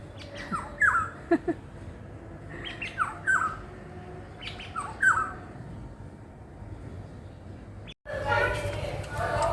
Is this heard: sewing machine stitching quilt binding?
no